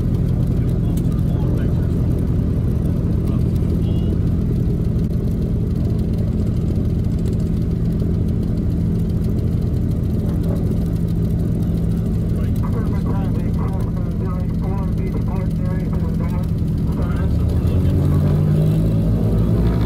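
Radial engines of a 1936 Lockheed Model 12 aircraft drone steadily and loudly at close range, a deep rumbling throb with a rising note near the end.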